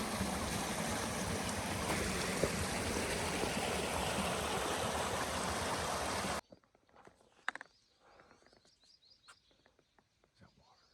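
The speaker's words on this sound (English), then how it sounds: "We made it to the creek again." A creek flows along a rugged hiking trail, a loud, steady rush of water for about six seconds before cutting off to quiet outdoor sounds with scattered knocks and faint bird calls.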